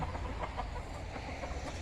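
Chickens cluck softly at a farm, a steady low murmur of fowl sounds spread across the moment with no voices on top.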